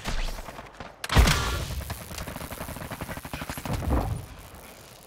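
Gunfire in the Destiny 2 video game, a dense run of rapid shots with a heavy thump near the start, steady and fairly loud throughout with no talk.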